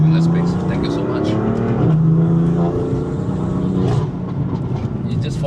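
A 600 hp BMW M4 engine revs hard as it pulls uphill on the Genting Highlands road, its loud, droning note rising and dropping between gears. Voices are heard over the engine.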